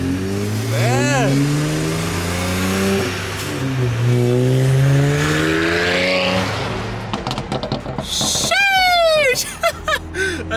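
A BMW 640i engine rises and falls as it accelerates through gears, heard from inside the car, with a voice talking over it at times.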